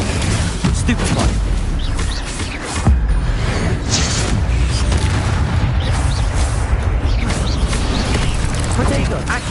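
Stupefy spells cast during Hogwarts Legacy combat, repeated thumping magical impacts and mechanical clatter amid a dense, continuous game soundscape, with speech present.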